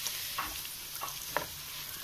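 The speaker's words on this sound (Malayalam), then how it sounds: "ഇതിലേക്ക് സവാള അരിഞ്ഞു വെച്ചത് ചേർത്തിയിട്ട് നന്നായിട്ടൊന്ന് വഴറ്റിയെടുക്കാം." Chopped onions sauté in hot oil, a constant close sizzle with a few soft scrapes of a stirring spoon.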